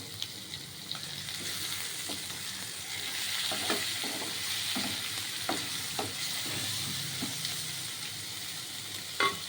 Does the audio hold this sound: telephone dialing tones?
no